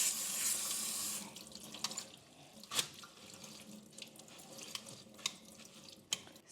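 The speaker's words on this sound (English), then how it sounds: "And I'm rinsing it more to just completely cool the noodles" Cold tap water runs steadily into a sink while pho noodles are rinsed, a continuous close splashing broken by occasional sharper clatters and drips.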